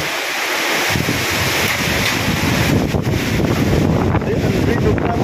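Strong wind roars steadily with a dense wash of rain, buffeting the microphone continuously at close range.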